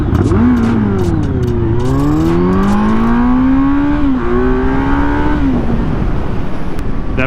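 A 2023 Kawasaki Z900 motorcycle accelerating hard from a standstill to 60 on a closed road course: loud, close engine roar climbing steeply through several gears, with pitch dropping at each shift.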